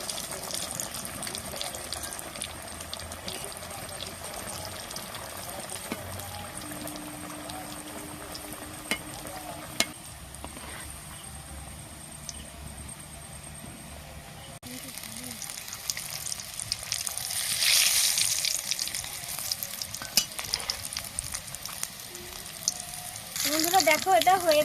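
Egg chops frying in hot oil in a Bengali home kitchen, a steady soft sizzle and crackle running throughout, with occasional clinks and a brief rush of water near the end.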